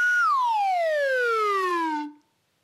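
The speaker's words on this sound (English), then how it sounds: "I'll play my real slide whistle" A single slide whistle note, clear and close, holds briefly high, then glides smoothly downward over about two seconds before cutting off into silence.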